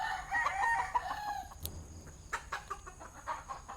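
A rooster crows loudly nearby for about a second and a half, then scattered clucks and soft rustling follow at a steady, uneven pace.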